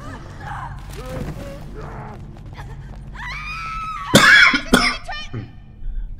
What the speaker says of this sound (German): ich huste schnell